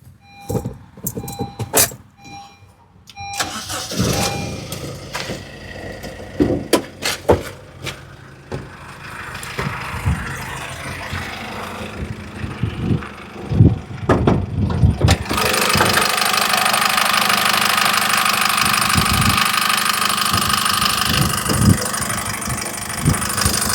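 A car engine cranks to life, then settles into a steady idle that runs on and on, with clicks and handling noises before the start.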